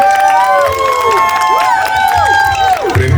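A crowd at a Bathukamma festival gathering at a Sai Temple claps and cheers for the temple board, a dense continuous wash of applause and voices with children's shouts and people talking throughout.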